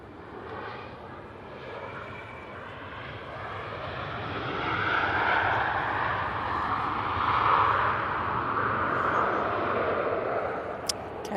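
A KLM airliner arriving from Amsterdam at Manchester Airport makes a distant jet roar that builds gradually, peaks loudly in the middle, then eases slightly, with no talking over it.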